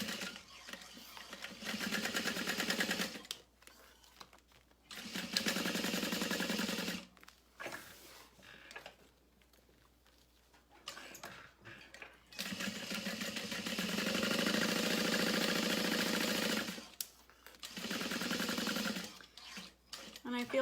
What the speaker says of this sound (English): And I am gonna add 2 lines of stitching to this as well.